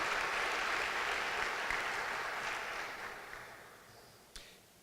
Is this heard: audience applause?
yes